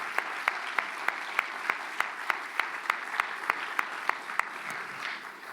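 An audience at a 2019 school magnet programs meeting gives a round of applause: dense, sustained clapping with a few evenly spaced, louder claps standing out in a steady rhythm, and no talking.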